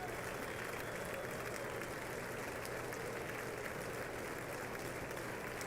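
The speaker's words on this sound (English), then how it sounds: "You can see him getting a lot of applause from Democrats in the chamber" Sustained applause from members of Congress in the House chamber for President Biden, a steady, dense clapping that stays even throughout, heard at a distance and fairly faint.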